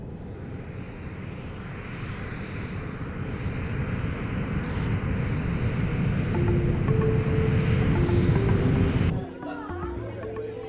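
Airplane engine during a long flight to Santo Domingo, a steady broadband cabin roar that builds slightly and then drops off near the end, with faint voices and a few tonal chimes beneath it.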